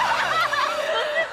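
On a TV variety game show, a person's voice imitates a chicken call with a warbling, wavering cluck that runs continuously for about a second.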